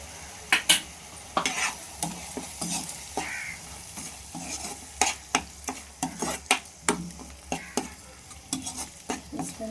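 Spice paste with turmeric, chilli powder and salt frying in oil with fried eggs for a spicy egg curry, stirred in a steady run of sharp spoon scrapes and clacks against the pan over a soft sizzle, close up.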